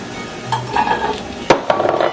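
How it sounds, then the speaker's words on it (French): Carrots sautéing in a frying pan for boeuf bourguignon, a steady close sizzle with stirring scrapes and a sharp clink of utensil against the pan. "Les carottes, je vais les passer un petit peu à la poêle"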